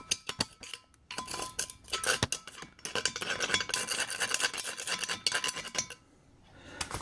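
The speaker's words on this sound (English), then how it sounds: "scraping these two intakes to see what I get to fall out of the port." Metal tool scraping and rasping inside the intake ports of a 5.2/5.9 Magnum cylinder head, with irregular gritty strokes in short bursts and pauses, fairly quiet and close with no talking.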